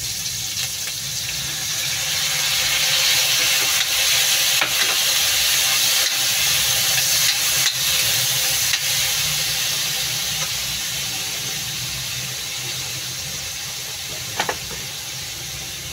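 Onion, garlic, tomato and ginger sauteing as soy sauce goes in for squid adobo, making a loud, continuous close hiss of frying steam that holds steady throughout, with a few faint knocks.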